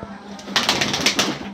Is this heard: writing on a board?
no